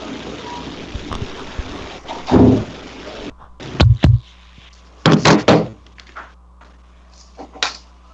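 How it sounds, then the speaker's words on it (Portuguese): A microphone falls and knocks with several dull thuds and bumps, heavy clunks in a quick cluster followed by lighter taps, close and loud against a quiet indoor background. "É estranho, o microfone caiu."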